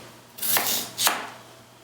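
A knife cuts through potatoes in two distinct, close strokes, each a short crisp slice against the board with a brief pause between them.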